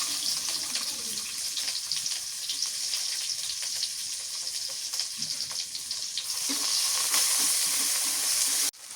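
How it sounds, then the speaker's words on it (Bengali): Chopped onions sizzle and crackle in hot oil in a pan, a steady frying hiss that briefly swells louder near the end before cutting off abruptly. "তেল দিয়ে দিই, পেঁয়াজ কুচি দিলাম"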